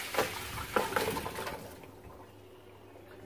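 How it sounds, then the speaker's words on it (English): Cooked edamame and hot water pour into a colander, a brief loud splashing rush with a few clattering knocks that fades quickly into quiet kitchen room tone. "Okay, pour it in the colander."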